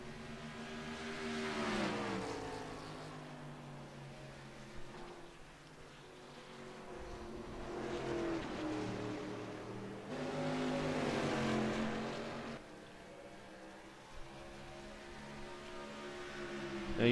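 Race cars running on a track, with engine notes rising and falling in several long sweeps as they pass by at a distance. No voices.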